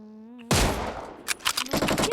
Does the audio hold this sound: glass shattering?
no